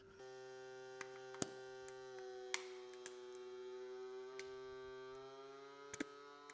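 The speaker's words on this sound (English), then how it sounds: "We'll do the vacuum and seal button at the same time." A Bonsenkitchen vacuum sealer vacuums and seals a bag: a steady electric motor hum runs throughout, with scattered sharp clicks and ticks along the way.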